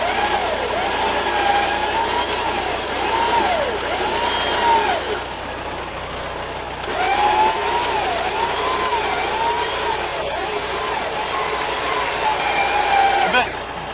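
Winch hauling an off-road vehicle, a steady motor whine rising and falling in repeated arcs over a low engine idle, fairly loud and close, with brief pauses between pulls.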